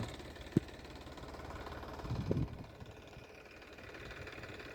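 A tractor engine idles with a low, steady rumble in a farm field at dusk, faint and continuous, with a brief knock or thud early on and no voices.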